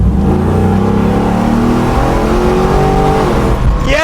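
A restored 1971 Ford Bronco with a V8 engine accelerates on the road, a loud, sustained engine roar climbing steadily in pitch with a gear-change dip near the end.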